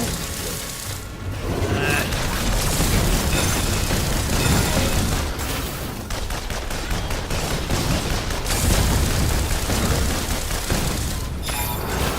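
Automated turret fire in the video game LiveLock, a continuous dense barrage of mechanical clattering and booming shots layered with game effects, loud and steady throughout with a brief dip near the start.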